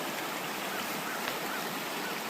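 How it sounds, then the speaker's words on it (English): A creek along a state game lands forest road in central Pennsylvania rushes steadily, a broad continuous wash of flowing water, close and moderately loud throughout with no voices. "Hope the creek is not too loud."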